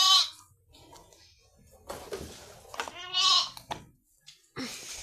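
Several loud bleats ring out in bursts with short pauses between them, near and clear, with faint rustling in the gaps.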